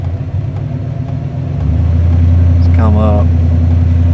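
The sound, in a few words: Ford 5.0 V8 engine revving with underdrive pulleys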